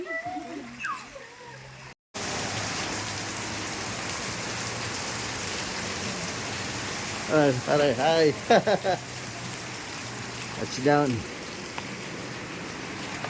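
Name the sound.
heavy rain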